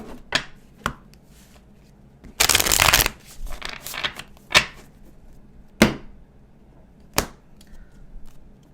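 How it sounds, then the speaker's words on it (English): Tarot cards being shuffled: a quick riffling burst followed by several sharp separate taps and slaps of cards, close and clear, with silence between. "I'm going to shuffle the other way."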